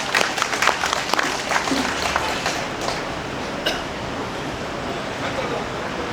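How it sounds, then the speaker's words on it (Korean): Audience at an outdoor memorial for COVID vaccine victims applauds steadily, a broad wash of clapping from a sizeable crowd carrying on for several seconds before fading to a lower murmur. "여러분 박수 부탁드리겠습니다"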